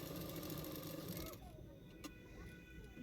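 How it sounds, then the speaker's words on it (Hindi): Sewing machine stitching along the neck edge of a blouse, a steady close mechanical hum for over a second that drops to a quieter residual whir with light handling noise. "नेक के किनारे किनारे पे एक सिलाई कर लूँगी"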